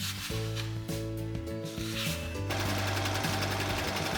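A serger sewing machine stitches a thread tension test, a loud, continuous mechanical whir and rapid chatter that grows denser and harsher partway through as the machine speeds up.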